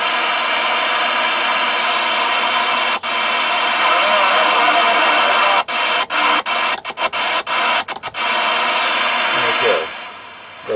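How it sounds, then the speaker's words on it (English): A radio picks up loud, continuous broadband static through a newly installed van antenna. The hiss is broken by a series of brief crackling dropouts, then fades lower near the end. "Static is a good thing."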